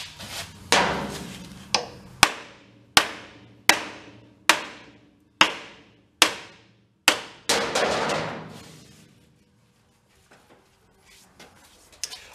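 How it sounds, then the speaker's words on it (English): A hammer taps repeatedly on the key taper of an old rumble-seat Plymouth: about ten sharp, evenly spaced metallic blows ringing close up, followed by quiet and a few faint knocks at the end. "I think some love tap hammers might have got her to respond."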